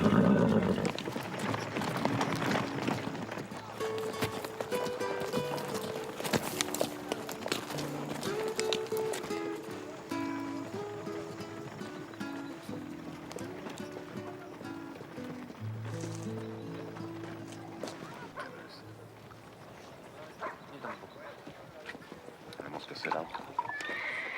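Horses neigh and whinny while hooves clip-clop on the ground in a western film scene, the animals close by, with voices talking over the commotion.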